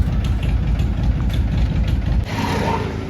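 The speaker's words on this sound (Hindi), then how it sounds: "अब ये वाला ट्रैक्टर जाएगा हमारा जनरेटर लेने के लिए।" A tractor engine idles at a construction site with a steady low rumble, nearby and fairly loud, then drops to a softer hum near the end.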